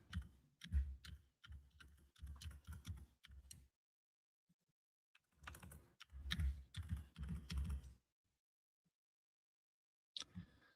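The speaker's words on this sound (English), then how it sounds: "I started typing in Captain as my username" Clattering keystrokes on a computer keyboard come in two quick bursts of typing separated by a pause, close and crisp, ending with a single sharp click.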